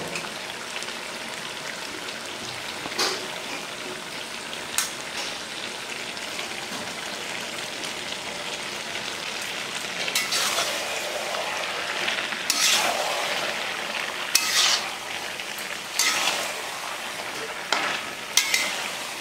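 Prawns frying in a pan during Bengali village-style cooking, a steady crackling sizzle with occasional louder spits and stirring bursts, close and continuous with no talk.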